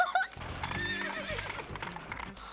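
A horse sound effect: one loud, shrill whinny rises and falls over clip-clop hooves, short and close, in a children's show.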